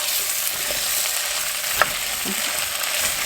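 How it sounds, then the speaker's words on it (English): Softening onions cook in a pot for potato leek soup, a soft, even sizzle held close, with one small clink of a utensil and no speech. "until the onions kind of get soft but not burnt"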